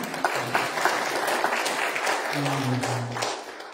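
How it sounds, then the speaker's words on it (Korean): A church congregation applauds to welcome visitors during a Sunday service, a moderate, even patter of clapping from a room of people, with a few murmured voices underneath toward the end. "전은지 박탁기 성도님, 잠깐 일어나시고 박수로 환영하겠습니다."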